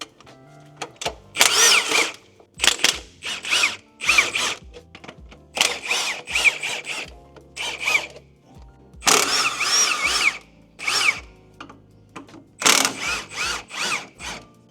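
A power tool, likely an impact wrench, loosens the engine mounts on a 2001 Honda Prelude with an H22 VTEC engine, firing loud, close bursts of rattling hammering repeatedly with short pauses between them.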